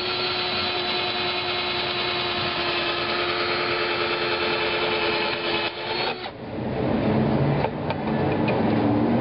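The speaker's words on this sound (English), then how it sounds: "now I've got an 1/8" hole drilled through the brace, the Prodex, and the floor of the oven" A drill with a 1/8 inch bit boring through an oven brace, Prodex insulation and the oven floor, a steady close high whine that briefly dips and catches before running on, with no talk.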